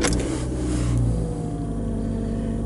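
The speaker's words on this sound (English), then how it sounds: "I'm gonna start the car." A car engine turns over with a brief burst, then settles into a steady, close idle with a low, even rumble for the rest of the moment.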